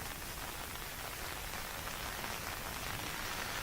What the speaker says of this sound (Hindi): राजधानी जयपुर में लगातार सुबह से मौसम जो बारिश है वो जारी है